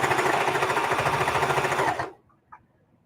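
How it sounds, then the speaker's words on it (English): Sewing machine back stitching through thick quilt binding, a close, loud and steady rapid needle chatter for two seconds that stops abruptly, followed by a faint click. "You hear how thick that is? Boom, boom, boom. Back stitching to the edge."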